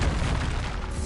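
A deep, booming blast from the Expulso spell in Hogwarts Legacy, a single loud rumbling burst that fills the moment and fades slightly, with no voices over it.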